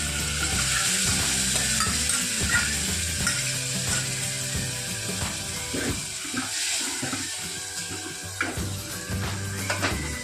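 Boiled dal tipped into a hot pan for panchratna dal, giving a steady, loud sizzle and frying hiss with wet stirring and bubbling throughout, close up and continuous, no voices.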